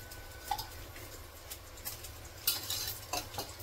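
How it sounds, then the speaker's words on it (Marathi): Vermicelli roasts in ghee in a pan while being stirred, with soft scraping strokes and light, irregular sizzling heard close and quietly. "हे थोडंसं 1 मिनिटभर भाजून घेते जरा। ते शेवया थोड्याशा भाजल्या, इथे पुन्हा आणि जरा तूप घालते 2 चमचे।"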